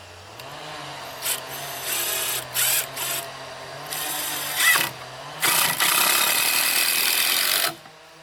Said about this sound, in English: before I screw these together here